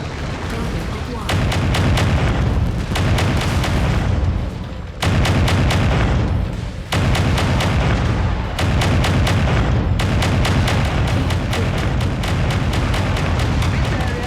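Mech weapons firing in the video game MechWarrior 5: Mercenaries, loud repeated heavy blasts and rapid bursts in several long volleys, separated by brief gaps.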